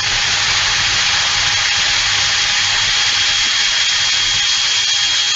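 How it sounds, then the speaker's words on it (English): A power drill runs right beside the microphone, a loud, steady, uninterrupted whine and hum with a constant high tone that fills the whole stretch with no voices. "My drill is right next to my mic, so I'm going to apologize in advance."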